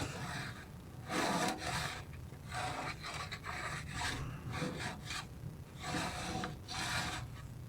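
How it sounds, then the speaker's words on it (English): A snow brush scraper rasps through thick buildup on a Powerstroke engine in a series of rough, uneven strokes at close range, each scrape a short gritty burst. "Just cutting through the thick stuff here with this scraper"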